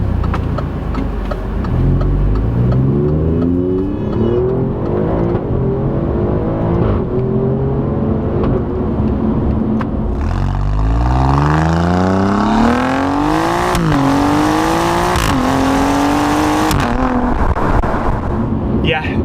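Alfa Romeo Giulia Quadrifoglio with a turbocharged engine rated around 512 brake horsepower, revving up through rising gear pulls, loud and steady with engine tone climbing in pitch in repeated sweeps.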